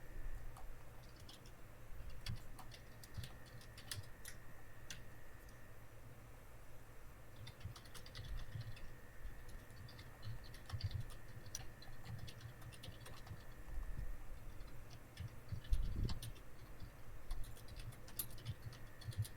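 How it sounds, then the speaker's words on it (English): Faint, scattered tapping of a computer keyboard during an online tabletop role-playing game session, with soft irregular keystrokes over a quiet room background and no talk. "This is a lot of typing."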